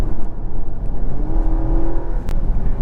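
A 2023 Dodge Hornet GT Plus with a nine-speed automatic accelerating on the road, heard from inside as a steady low engine drone with a rising tone, loud and continuous with no talk.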